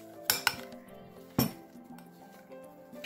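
A spoon clinks against a bowl while slime made with foamy soap is mixed, giving a few sharp metallic taps followed by quieter scraping and stirring, close and alone without talk.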